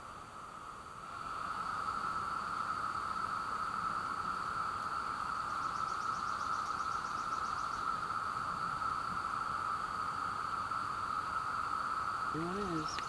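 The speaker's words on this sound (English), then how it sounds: "Here's a close-up of a 17-year cicada." Steady outdoor chorus of 17-year cicadas, a continuous shrill buzzing drone that holds unbroken for the whole stretch at moderate level, with faint extra pulsing near the end.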